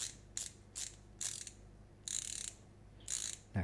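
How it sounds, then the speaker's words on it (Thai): T-ratchet screwdriver with a 6.35 mm drive clicking in short buzzy bursts as it turns, several quick ratcheting runs separated by pauses, close and fairly quiet. "เสียงของไอ้ไขควงเนี่ยเวลาเราหมุนอะ"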